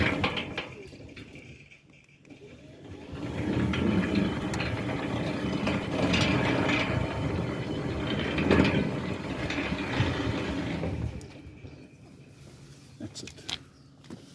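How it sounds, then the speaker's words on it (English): A Centurion motor drives a steel sliding gate along its steel rack and pinion gear in Montana, Pretoria, giving a steady mechanical whir and grind for several seconds at moderate level before stopping, with a voice talking over it. "your steel gate rail is running onto the gate motor pinion gear. I'll just quickly activate it."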